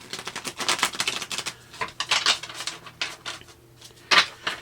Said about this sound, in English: I'm going to shuffle this really quick and get recent past.